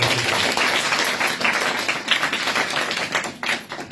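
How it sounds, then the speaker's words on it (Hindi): A church congregation claps together in sustained, lively applause, a dense wash of many hands filling the room with a few sharper claps near the end. "ताली बजाते एक बार।"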